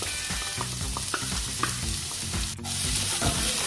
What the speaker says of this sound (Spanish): Vamos a agregar un cuartito de cebolla picada.